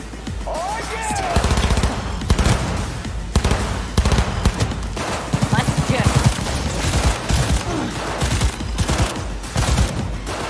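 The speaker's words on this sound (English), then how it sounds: "I'm taking cover and I'm just firing bullets at the dude" Rapid bursts of gunfire and automatic weapon fire in Cyberpunk 2077 during a firefight from cover, dense and loud throughout, with game voices and effects mixed in.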